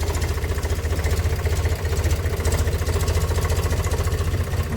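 A farm tractor engine runs steadily while the tractor turns, a continuous low rumbling drone with a mid-pitched throb, close and fairly loud throughout with no talk.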